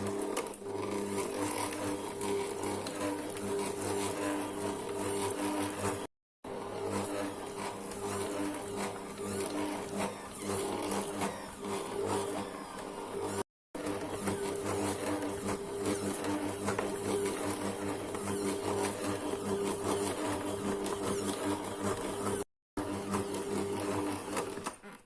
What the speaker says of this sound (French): on file tout de suite au robot. 2-3 minutes en vitesse 1.